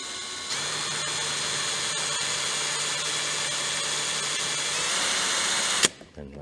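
A power drill runs continuously while cutting through the aluminium of a GBS Zero Gen 2 roof cover, a steady high whine with grinding texture, close and alone, stopping abruptly near the end.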